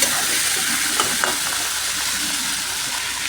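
Ground coriander and chili powder sizzle steadily in hot oil in a pan while being stirred for a grass carp curry with green tomatoes, a loud, constant frying hiss with a few soft scraping stirs.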